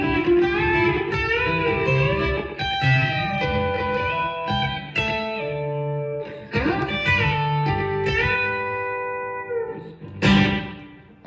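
Country lick in G played on a B-bender electric guitar, with clean picked notes and bent, sliding pitches rising and falling through sustained phrases, loud and close with no talking.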